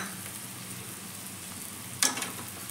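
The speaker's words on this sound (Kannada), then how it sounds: "ಇವಾಗ ತುರಿದಿಟ್ಕೊಂಡಿರೋಂಥ ಮಾವಿನಕಾಯಿ ಹಾಕೋತಾ ಇದ್ದೀನಿ." Grated raw gini mango frying in a pan for mango chitranna, a steady soft sizzle with a brief louder hiss as pieces hit the hot oil near the end.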